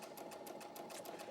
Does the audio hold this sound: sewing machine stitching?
yes